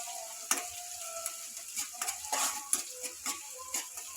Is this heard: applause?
no